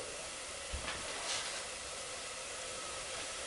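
Liquid heats toward a boil in a pot beneath a steamer basket set for lobster tails, giving a steady, even hiss with a faint soft bubbling underneath and no talking.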